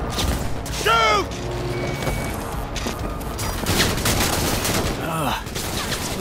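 Bursts of gunfire ring out in the video game Cyberpunk 2077, rapid shots and whooshing effects layered with mechanical noise and game sounds, loud and busy throughout.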